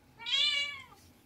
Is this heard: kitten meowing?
yes